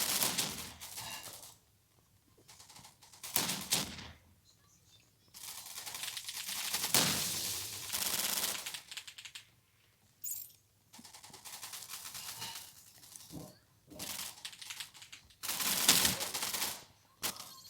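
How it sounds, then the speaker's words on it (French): Futuristic weapon firing in a video game, heard as repeated loud bursts of rapid fire separated by short pauses, with no talking. "Petite arme futuriste."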